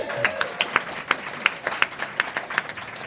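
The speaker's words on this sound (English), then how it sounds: "Round of applause." Audience applause at a book launch event, steady clapping from a crowd in a room, moderately loud and continuing for a few seconds without talk.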